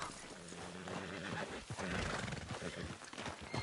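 A horse whinnies loudly in Red Dead Redemption 2 over a busy, dense mix of game sounds and hoofbeats, the neigh rising and falling briefly before trailing off.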